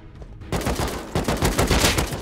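AK rifle gunfire in the survival video game Rust during a raid fight, loud rapid bursts of automatic shots cracking in quick succession after a brief quiet start.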